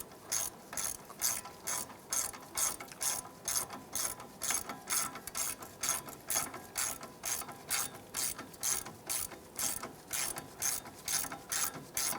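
A ratchet tightens a bolt on the ABS bracket of a 2001-2007 Ford Escape during strut work, giving steady rapid clicking in regular bursts, close up and with no talk.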